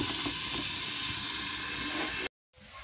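Food sizzles steadily in a pan over a wood fire, a continuous close hiss that cuts out abruptly near the end before a fainter hiss returns.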